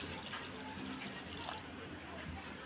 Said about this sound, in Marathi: तुरी शिजतील एवढंच पाणी टाकायचं आहे जास्त पाणी टाकायचं नाही